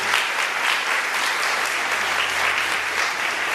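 Loud, sustained applause from a large church congregation, even and continuous throughout with no voices over it.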